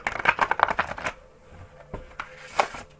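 A deck of tarot cards riffles in a fast, crisp flutter, then a few softer taps and shuffles follow, close and clear with no talking.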